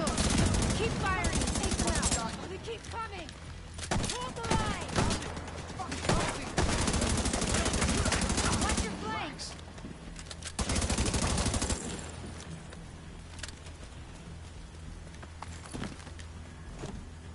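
Video game gunfire in rapid automatic bursts, loud and dense for the first twelve seconds, with single shots mixed in, then dropping to a quieter background.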